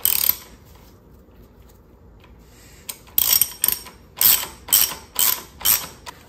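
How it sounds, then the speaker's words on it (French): Ratchet driving a T50 screw on a BMW R1200 RS motorcycle during driveshaft maintenance, heard as several loud bursts of rapid clicking in quick succession after a quiet pause, close and alone. "Fait qu'on va visser cette vis là avec une"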